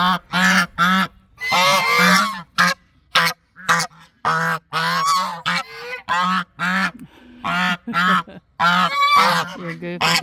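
A domestic goose raised from a gosling honks again and again, loud and close, in sharp nasal calls separated by short gaps, while a person's voice is faintly present.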